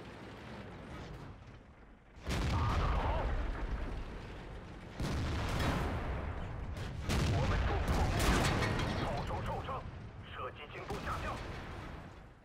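Tank guns firing in the game World of Tanks, heavy booming blasts that open with a sudden loud report, each followed by long rumbling roars that crowd the whole clip.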